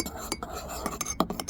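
A metal spoon clinks and scrapes quickly against a cup while coffee is whisked into cappuccino foam, producing a brief run of close, bright tapping clinks.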